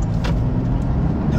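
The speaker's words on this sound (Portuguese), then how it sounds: "o carro parou" The engine of a brand-new, zero-kilometre car loses power and stalls. It gives a brief, loud, low rumble that lasts under two seconds, with no talking.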